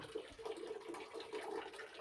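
Flowing water from a hidden natural spring trickles and gurgles softly nearby, a quiet, bubbling stream with small irregular splashes.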